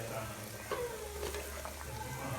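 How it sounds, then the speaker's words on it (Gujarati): Green onions sizzle in a hot pan while being stirred, a steady soft frying hiss with faint scraping, under quiet background noise. "આવી રીતના થોડી થોડી કરીને બધી આપણે લીલી ડુંગળી નાખી દેવાની છે આમાં, ને આપણે એને સરસ મજાનું હલાવી નાખવાનું છે"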